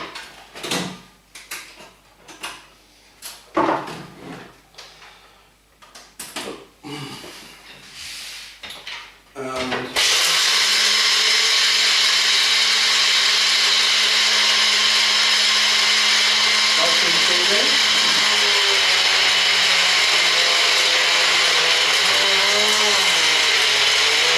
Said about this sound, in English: I like to grind my own nuts